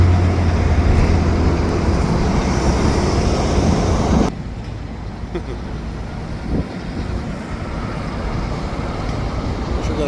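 Freight train with many cars rolling through a rail yard, a steady loud rumble for the first few seconds, then dropping to a softer, distant grinding background.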